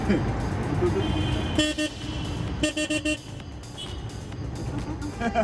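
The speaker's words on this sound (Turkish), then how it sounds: "Kornam gerçekten milleti uyarıyor onu söyleyebilirim." Short horn toots from a Renault Twizy electric car sound in bursts over Istanbul traffic noise and chatter, loud and close, a couple of quick honks in a row.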